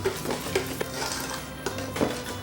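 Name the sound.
whisking eggs in a bowl for eggnog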